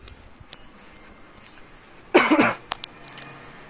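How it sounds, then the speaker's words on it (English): A person's dry cough indoors, one short harsh burst of a few quick hacks, fairly close, set against a quiet room with faint small clicks around it. "still got my dry cough"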